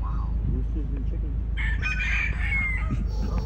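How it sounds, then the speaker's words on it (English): A rooster crows from a moderate distance outdoors, in an area with many roosters and chickens. The drawn-out call rises over steady background noise while people talk nearby. "is that a rooster?"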